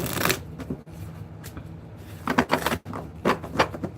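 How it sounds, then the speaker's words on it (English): A deck of tarot cards is shuffled by hand, giving repeated crisp riffling bursts separated by softer rustling, close and moderately loud. "Now I've shuffled these cards for about an hour altogether."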